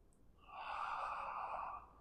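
Slow, steady breath drawn in or out during a yoga exercise for the spine, a soft airy exhale that swells and holds for over a second before easing off, close and quiet with no talking.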